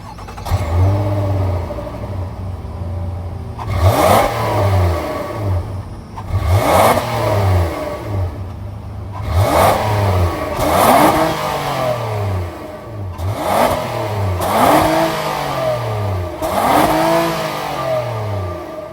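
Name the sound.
V6 car engine revving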